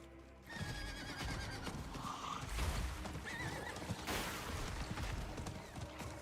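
A horse mount in the Diablo video game gives a sharp neigh and whinny over clip-clopping hooves, with bursts of game effects mixed in.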